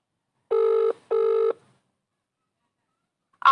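A phone rings out with two evenly spaced buzzing ring tones and then silence as the call goes unanswered, ending with a brief sharp sound.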